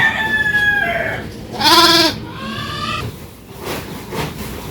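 A rooster crows, with a long drawn-out call rising loud in the middle, amid scattered clucking and other farmyard fowl sounds.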